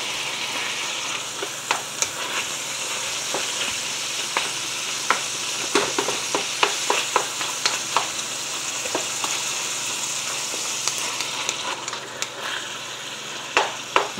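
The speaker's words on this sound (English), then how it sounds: "So it takes the meat, and you just brown it, whatnot, cook it up real nice and neat." Ground meat for taco salad browns in a hot pan with a continuous close sizzle, broken by frequent sharp scrapes and taps of a spatula stirring it around.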